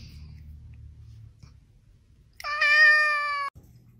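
A cat plays and lets out one loud, drawn-out meow of about a second, close by, after quiet rustling and a low background murmur.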